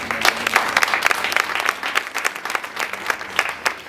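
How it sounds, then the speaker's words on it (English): A warm round of audience applause at a speech contest welcomes a speaker. Dense, lively clapping with sharp individual claps runs steadily throughout at close range. "with a warm round of applause, can we welcome Buleng William Sekhenwe"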